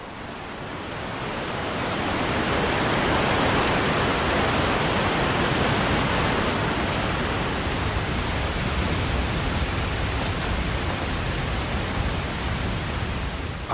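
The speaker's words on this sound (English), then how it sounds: "when spring comes, icy torrents pour down the mountainsides." Icy mountain torrents rush down Alpine slopes in a loud, steady roar of pouring water, swelling in over the first few seconds and then holding constant with no voices.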